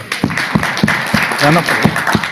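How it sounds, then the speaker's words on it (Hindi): Clapping from a group of people, steady and fairly loud, with a voice briefly calling out over it. "चल एक बार जोरदार तालियां इन सबके।"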